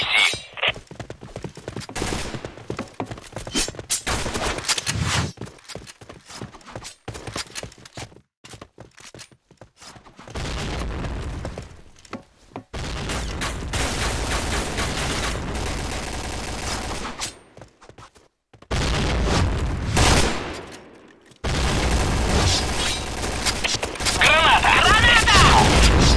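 Rapid gunfire bursts and explosions from the shooter game Point Blank, loud and close, come in dense volleys separated by brief quiet gaps, with in-game voice announcements heard between them.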